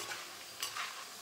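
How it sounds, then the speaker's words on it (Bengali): Potato papad fries in hot oil in a wok, a short, faint, hissing sizzle with a slight swell near the middle and no talking. "তেলটা যখন খুব ভালোভাবে গরম হয়ে যাবে তখন এর মধ্যে পাঁপড়গুলো দিয়ে এরকম করে একটু নাড়াচাড়া করতে হবে"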